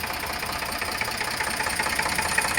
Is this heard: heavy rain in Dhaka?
no